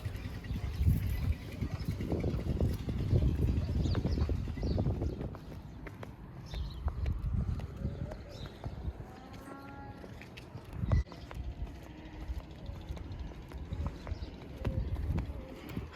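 A ridden donkey's hooves clop steadily along an outdoor route to a local market in Qurna near Luxor, Egypt, fairly soft and rhythmic over a rough, breezy background with no talking.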